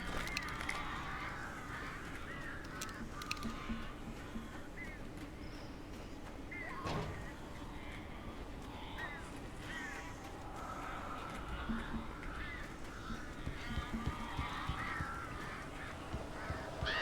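Strange birds in the video game Alan Wake caw and flap in the background, harsh calls scattered over a low rumble, with speech running over them throughout.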